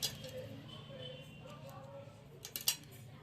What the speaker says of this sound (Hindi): यहाँ पे धागे को काट देंगे